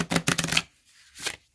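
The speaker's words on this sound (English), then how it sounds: "let's just do one shuffle so you can see" A tarot oracle card deck is riffle-shuffled up close, giving a quick burst of crisp flapping card noise for about half a second, a pause, then a short second riffle.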